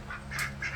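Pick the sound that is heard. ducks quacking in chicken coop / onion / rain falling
ducks quacking in chicken coop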